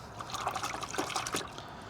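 Sponge sloshing and aerating McKee's F914 foaming rinseless wash in a bucket, soft wet trickling and bubbling squelches, quiet and close, no talk.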